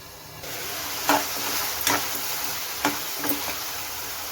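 Tomatoes cooking down in a pan for tomato chutney give a steady, even sizzle and hiss, with a few soft clicks and scrapes from stirring standing out briefly above it.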